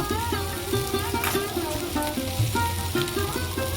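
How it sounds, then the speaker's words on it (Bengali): Tomato, green chili and potato fry with spices in a pan, giving a steady close sizzle with stirring scrapes throughout, for a vegetarian ghugni. "টমেটো কাঁচা লঙ্কা আলুর সঙ্গে ভেজে নিয়েছি"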